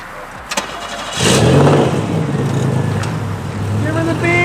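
A Pontiac 6000 AWD engine on a 2020 Mig500 build revs hard under throttle, jumping from a rough idle into a loud, sustained roar that holds and wavers close by, with a voice briefly audible.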